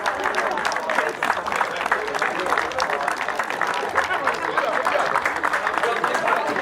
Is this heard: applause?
yes